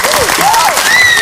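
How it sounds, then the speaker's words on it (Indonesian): Studio audience applause for a contestant on an Indonesian TV game show, a dense, loud, continuous clapping with whistles and a host's voice over it. "tepuk tangan untuk Tika dari Surabaya"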